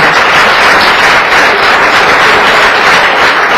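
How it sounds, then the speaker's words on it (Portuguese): Loud, continuous clapping from a large crowd, dense and sustained without a break. "Vamos aplaudir bem forte ao Senhor."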